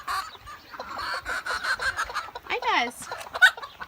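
Backyard chickens clucking near and around, with soft repeated clucks and one rising squawk, while a person speaks briefly among them.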